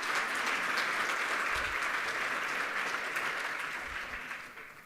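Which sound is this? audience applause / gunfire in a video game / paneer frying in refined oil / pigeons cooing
audience applause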